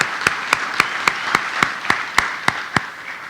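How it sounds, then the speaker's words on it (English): At an outdoor Memorial Day service in East Bridgewater, a single pair of hands claps for the band in a slow, even rhythm of about ten sharp claps, fairly close over a quiet background. "I do want to give a round of applause to the band."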